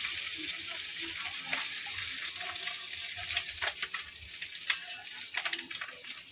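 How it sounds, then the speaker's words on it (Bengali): Whole rohu fish roe frying in oil, a steady close crackling sizzle with occasional stirring scrapes and pops, no talking. "ডিমটা একটু সময় নিয়ে ভাজতে হবে"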